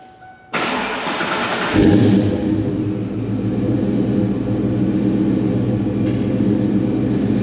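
A 1993 Ford Mustang 5.0 Foxbody engine starts abruptly, surges briefly, then settles into a loud, steady, close idle with a low rumble and no talking.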